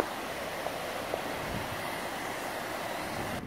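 A waterfall on a cycling route near Barcelona, heard as a steady broadband rush of falling water, moderately loud and unbroken throughout, with no talk.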